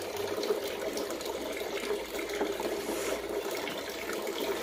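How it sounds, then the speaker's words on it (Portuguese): Water splashes and trickles steadily from a large garden fountain built of cement and a tree trunk, fed with only a little water, producing a continuous close gushing and spattering with no talking. "Ela tá fazendo bastante barulho, tá? Respingando um pouco, porque eu coloquei bem pouquinha água"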